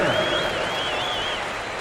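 Steady wash of arena crowd noise from an NBA 2K26 basketball game, a continuous mid-level roar with a faint whistling tone drifting above it, no voices standing out.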